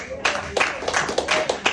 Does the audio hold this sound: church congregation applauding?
yes